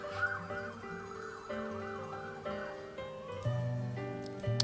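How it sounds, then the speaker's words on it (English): A siren wails in Zelda: Tears of the Kingdom, a wavering tone that rises and falls steadily over game music and ambience, moderately loud throughout. "Apparently Staminoka Bass is illegal, if the siren is any indication"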